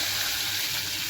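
Water pours into a tray of mackerel with potatoes and rice with fried onions, a brief, steady, close rushing splash.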